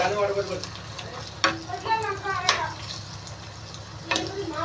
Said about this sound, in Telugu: ఫ్రై అవుతున్నాయండి ఇంకా అయితే బాగా ఫ్రై అవ్వాలి